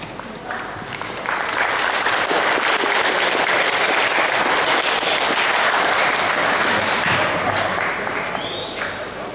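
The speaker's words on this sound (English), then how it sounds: "give him a big round of applause" Loud, sustained round of applause from a seated audience greeting a company managing director at a business introduction event, dense clapping swelling quickly and holding steady for several seconds before easing slightly.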